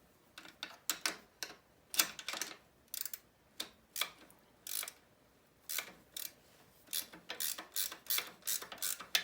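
A ratchet wrench works the shock bolts on a 2005 Honda CRF70F motorcycle, giving rapid bursts of sharp clicking in uneven groups, close and fairly quiet, with brief pauses between strokes.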